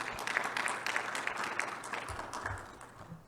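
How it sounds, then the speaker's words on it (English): Audience at a tech conference on RISC-V for AI inference applauding after a talk, a dense burst of many hands clapping that gradually thins and fades out over a few seconds. "let's give a round of applause"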